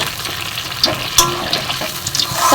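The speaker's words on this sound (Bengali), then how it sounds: "এবার জল দিয়ে দিলাম" Water poured into a curry of spiced fried potatoes and fish roe fritters in a cooking pan, a gushing splash with sizzling and bubbling, close and continuous.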